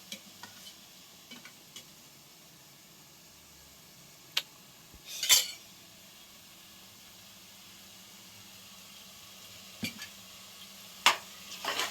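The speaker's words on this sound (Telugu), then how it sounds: "పెరుగు వేసుకున్నాక బాగా కలిపేసుకున్నాము." Curd being stirred to mix it well: sparse, faint taps and soft scrapes spread over a quiet background, with one brief louder scrape midway and a small cluster of clicks near the end.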